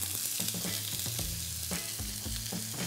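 Chopped onion hits a hot pan for white queso and sizzles steadily, with scattered clicks and scraping stirs layered over the frying.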